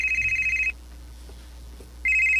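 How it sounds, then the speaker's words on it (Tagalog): A cellphone rings with a steady electronic tone that pulses, stops briefly, then resumes, loud and near, without talking, within a radio drama scene. "imong cellphone oh"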